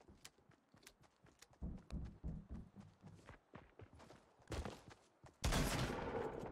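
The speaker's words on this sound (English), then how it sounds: "Why are they all shooting at me here?" Gunfire from players shooting during a Fortnite Winter Royale qualifier match: a string of sharp, fairly close shots in uneven rhythm, ending in a louder, sustained burst of fire.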